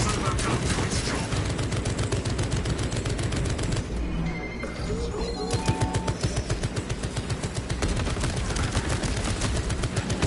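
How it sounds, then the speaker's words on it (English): A servo gun in Space Marine 2 fires a rapid, steady stream of loud mechanical shots, briefly dropping out for about a second before the relentless automatic rattle resumes at full volume. "Let the servo gun do its job."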